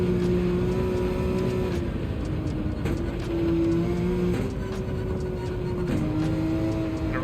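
Porsche race car in Gran Turismo 7 holding a loud, steady engine drone, pitch rising and dipping through shifts and corners, close and continuous with no talking.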